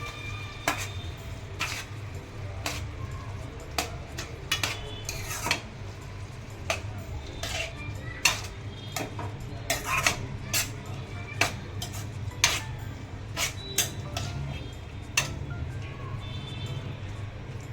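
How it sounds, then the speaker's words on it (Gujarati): A spoon scrapes and clinks against a pressure cooker while Kathiyawadi dhaba-style brinjal bharta is stirred: a steady run of sharp metallic taps at an uneven pace over a low kitchen hum. "હવે આને બરાબર ચમચાથી હલાવીને હવે ઢાંકી દેવાનું છે."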